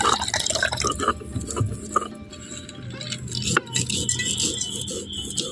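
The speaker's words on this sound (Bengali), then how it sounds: "এই নিম ফুলটা জলে ভালো করে পরিষ্কার করে নেবে" Neem flowers are washed by hand in a vessel of water in a rural kitchen, with irregular splashes, drips and small clinks of a metal pot, close and moderately loud.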